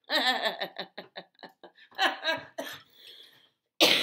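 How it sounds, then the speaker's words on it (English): Repeated coughing fits blamed on allergies, a series of short bursts close to the mic, broken by brief pauses, with a louder burst near the end. "Don't you be coughing on me, honey."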